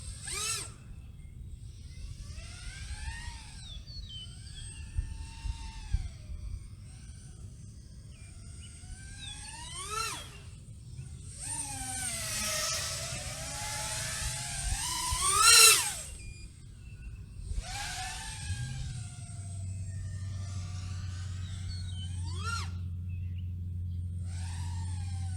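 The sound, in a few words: iFlight Xing Nano 1206 4500kv brushless motor spinning at about 21% throttle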